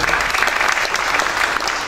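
Dense, loud applause from a congress audience in Latin America greeting a speaker, a continuous roar of many hands clapping at once with no single claps standing out.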